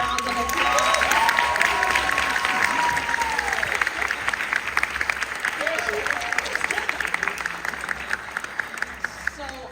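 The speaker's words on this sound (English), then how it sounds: "I'd like to give her a round of applause" A crowd at an award ceremony breaks into a sustained round of applause, loud and dense, with cheering and a voice speaking over the clapping.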